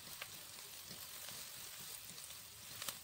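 Onion, spring onion and carrot sauté in a pan with a faint, steady sizzle and a few light stirring ticks, heard quietly and without talk.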